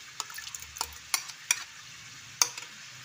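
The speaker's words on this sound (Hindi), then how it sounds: "जब तक चिकन दही के साथ फ्राई हो रही है" Chicken fries in a pan with yogurt, a low, faint sizzle broken by a few sharp clinks and scrapes of stirring. There is no talking.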